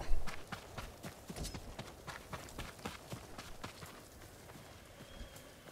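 Horse hooves clip-clopping steadily in the Ghost of Tsushima video game, a quick rhythmic run of soft, close hoof strikes that gradually eases, with faint background ambience.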